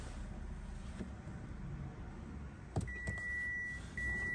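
Ignition switched on in a Mitsubishi Mirage inside a quiet cabin: a couple of faint clicks, then a thin, steady electronic chime tone that pauses briefly and resumes over a low hum.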